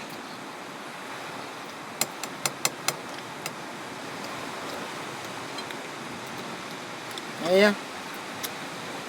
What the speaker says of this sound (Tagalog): Yung ingay po ay hampas ng alon yan. Kasi nasa tabing dagat tayo.